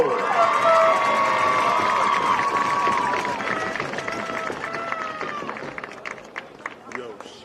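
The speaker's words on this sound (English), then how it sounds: "how about another big round of applause for all of our seniors this year at Washington High" A big crowd at a high school ceremony cheers, whoops and applauds for graduating seniors, loud at first with shrill shouts and whistles, then gradually thinning into scattered claps and calls.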